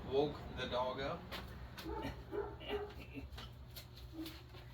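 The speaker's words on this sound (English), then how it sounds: "woke the dog up" A dog whimpers and lets out soft yips after being woken, thin whining cries recurring through a low household hum, fairly faint and close by.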